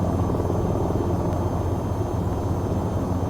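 An AH-6 Little Bird helicopter takes off in the VTOL VR game, its rotor and engine a loud, steady, dense roar with a fast beating throb, heard close and alone throughout.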